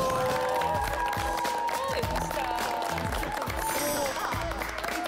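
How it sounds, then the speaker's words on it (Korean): A studio audience on a Korean variety talk show applauds continuously, forming a dense wash of clapping that lasts throughout while music and a voice sit underneath. "박수로 먼저 해주세요."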